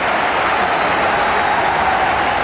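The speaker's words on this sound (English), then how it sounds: "Crowd warming up again as the Everton pressure builds again." Steady, loud roar of a football crowd at an Everton match in 1978, a dense wash of cheering voices with no distinct words.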